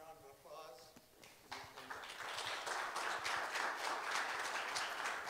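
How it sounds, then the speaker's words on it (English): Congregation applauding a guest speaker named Doug at a church morning service, a broad swell of many hands clapping that builds after a short spoken introduction and stays steady and dense to the end. "let's give Doug a good round of applause"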